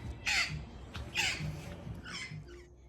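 Loud green birds perched on wires give harsh screeching calls in three separate bursts, close and shrill over a quiet background.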